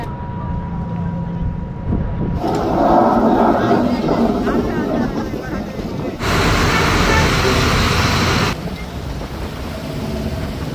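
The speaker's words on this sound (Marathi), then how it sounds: "आवाज भरपूर आहे या बोटीचा आणि लाटा पण अशा जास्त आहेत" A boat engine drones loudly while waves slap against the hull on a rough crossing to a jetty at Saphale, with wind noise and a voice talking over the steady roar.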